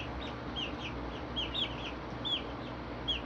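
Young homestead chickens losing their fluff for real feathers give a string of short, high squawks and cheeps at an uneven rhythm over a steady low background hum.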